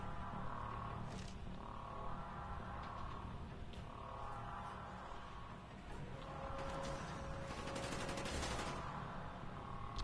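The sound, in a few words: gunfire from enemies in Call of Duty Black Ops video game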